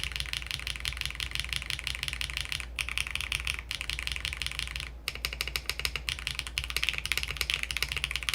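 Mechanical keyboard typing on a Ducky OK-M series board fitted with swapped switches and keycaps: a steady, close run of rapid key clicks and clacks, with a brief pause near the middle, over a low background hum.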